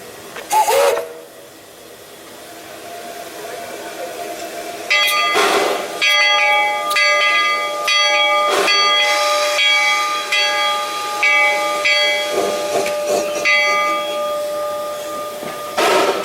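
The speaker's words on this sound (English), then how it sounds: "The Hillcrest Number 1 is a steam locomotive built to the patented design" Hillcrest No. 1, a Shay geared steam locomotive, hisses loudly in broad bursts while its bell clangs repeatedly in a steady rhythm; the bell rings near and continuous from the middle onward over persistent steam noise.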